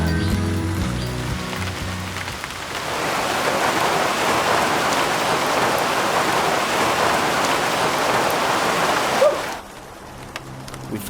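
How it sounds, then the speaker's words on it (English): Steady rain pours down in a forest park in Palawan, Philippines, a dense continuous hiss of drops on leaves and ground that builds after a few seconds and then eases off near the end. "We found ourselves trapped by the rain in the forest park near the Crocodile farm."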